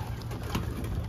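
Soft, low cooing of young racing homing pigeons inside a loft, steady and close, with no talking.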